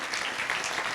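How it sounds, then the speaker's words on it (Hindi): A church congregation claps loudly at a Hindi-language service, a dense, steady wash of many hands with no break. "ताली बजाएंगे जोर से"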